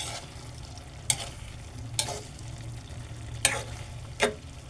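Coconut milk simmers with eggplant and dried anchovies in a pan, a low steady bubbling hiss under four distinct scraping stirs of a spoon against the pan.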